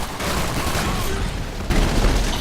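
Several grenades go off in the video game Call of Duty 3, loud booms and crackling blasts overlapping in a dense burst of battle noise.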